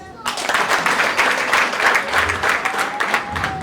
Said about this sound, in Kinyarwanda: Umukobwa wacu azi kuzirikana, yaranezerewe, twamukomera amashyi.